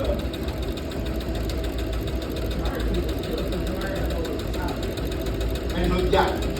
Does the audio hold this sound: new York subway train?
no